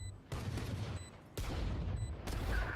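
Gunfire from pistols in a Valorant match, a few sharp loud shots in quick bursts, with no voices over them.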